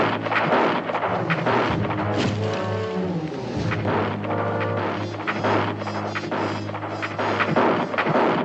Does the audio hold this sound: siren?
no